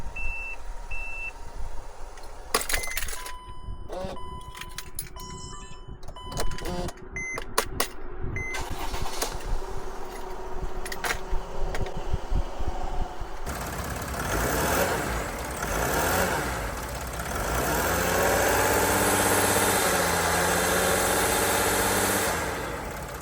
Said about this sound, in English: the GOOLOO A3 as you can see, started the Mercedes Sprinter multiple times